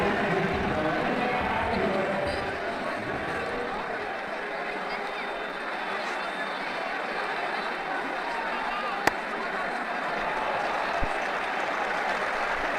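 Stadium crowd at an IPL cricket match applauding a batting shot, a sustained broad wash of clapping and crowd noise, with a brief sharp knock partway through and a commentator talking over it.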